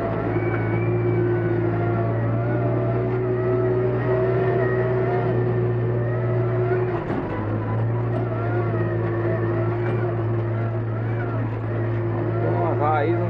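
A New Holland B95B backhoe loader reopening a dirt road drones with a steady low diesel engine hum and hydraulic whine, rising briefly in pitch, while people talk over it throughout.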